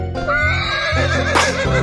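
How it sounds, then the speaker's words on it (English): A horse neighs in one loud, close whinny that rises and wavers over about two seconds. "Horse."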